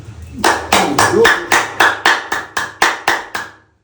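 Loud, vigorous hand clapping with fingers spread, about eleven sharp claps in a steady, slightly quickening rhythm, close and dry, stopping abruptly at the end.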